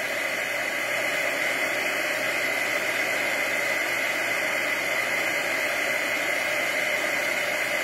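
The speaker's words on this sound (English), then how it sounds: "Going to bring my heat gun" A heat gun blowing steadily at close range while heating stamped card work, a constant loud hissing whoosh with no breaks from start to finish.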